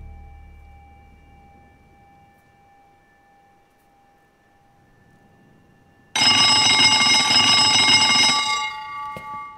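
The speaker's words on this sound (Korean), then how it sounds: "시끄러운 소리를 내는 전화" After a few seconds of near silence with a faint hum, a telephone bursts into loud, harsh electric ringing, a sustained clanging bell that cuts off abruptly.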